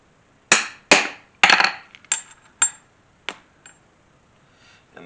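A 5/16 rivet is set into a leather chain wallet with a series of sharp metallic hammer taps, about eight strikes that start firm and close together, then grow fainter and farther apart, each ringing briefly into quiet.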